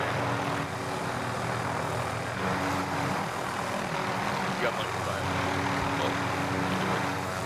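Helicopter in the video game Warzone, a loud, steady engine and rotor roar that drones on without a break for the whole stretch.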